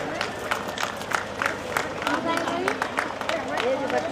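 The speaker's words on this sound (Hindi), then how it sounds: "तालियां बजती रहनी चाहिए।" Audience at an annual school function claps in quick scattered bursts, moderately loud, over a busy hall of crowd murmur and talk.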